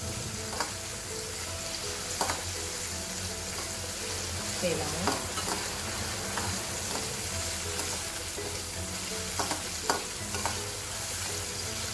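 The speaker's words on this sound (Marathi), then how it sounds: "भरपूर परतून घेऊ आपण" Vegetables being sautéed in a spiced oil tempering for a thick tiffin-style gravy. A continuous close sizzle runs throughout, broken by repeated scraping and clinking strokes of a spoon against the pan.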